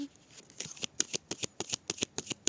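A deck of tarot cards being cut and handled: a quick run of about a dozen crisp, evenly spaced flicks and snaps, close and fairly quiet, with no talking.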